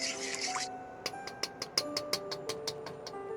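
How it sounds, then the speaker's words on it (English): Sesame chicken sauce bubbling in a pan, with a quiet series of small, evenly spaced pops and plops close by after a brief hiss at the start. "Okay, we're bubbling."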